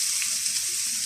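Sliced onions fry in hot oil in a pan, a steady bright sizzle and crackle heard close up and alone for about a second.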